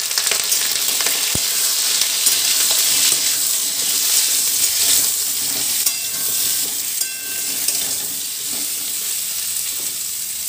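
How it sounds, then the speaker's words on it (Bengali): Pointed gourd pieces fry in hot mustard oil in a wok, giving a steady, close, loud sizzle with crackling spatters that holds throughout with no talking. "কড়াইয়ে দেখো সর্ষের তেল দিয়ে দিয়েছি, তেলটা গরমও হয়ে গেছে। এবারে যে পটলগুলো কেটে রেখেছিলাম পটলগুলো একটু হালকা করে ভেজে নিই।"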